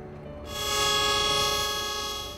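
A passenger train in Train Simulator sounds a sustained, loud horn that swells in and holds steady, its tone rich with harmonics, on the Rangkasbitung line where KA930, suspected of a braking fault, collided in 2001.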